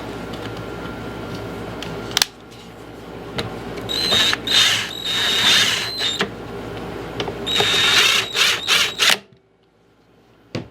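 A power drill whirs in several bursts, some short and some longer, as screws are driven. The motor pitch rises and falls, then stops abruptly.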